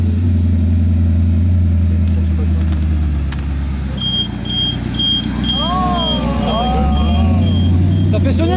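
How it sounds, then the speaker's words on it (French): A car engine runs loud and close, with a deep steady rumble that swells and eases as it revs, while a sharp, regular beeping sounds through the middle. "Ça fait sonner la voiture derrière."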